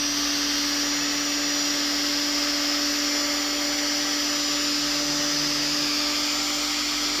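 An electric mixer grinder running after its armature was replaced, giving off a steady, unbroken high motor whine with a constant hum beneath it.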